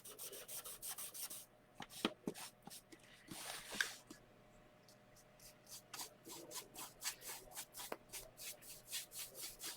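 A cloth or hand rubs wood stain back across a wooden box in repeated soft strokes, close and faint, with scattered light brushing and handling noises.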